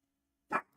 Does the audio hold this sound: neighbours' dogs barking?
yes